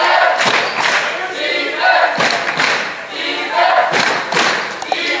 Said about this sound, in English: You hear the players and crowd calling for D as hands are up